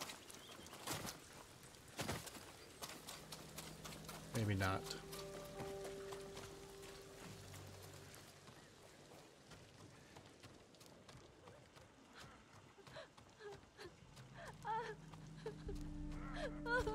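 Horse hooves clip-clop and run in the samurai video game Ghost of Tsushima, a steady galloping patter amid game music and ambient effects, moderately loud throughout.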